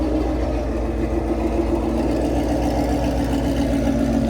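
A 100K-mile Ford Mustang GT fitted with a Gen 6 Whipple supercharger runs at a steady, smooth idle, a loud, close, continuous engine drone with no other sounds on top.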